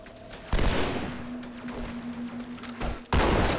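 Gunfire in Halo 2 comes as two loud, close bursts with a steady whining tone and scattered crackling shots between them.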